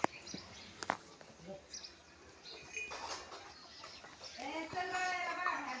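Chickens cluck nearby with a few sharp flaps and clicks, then people talk over continued soft clucking.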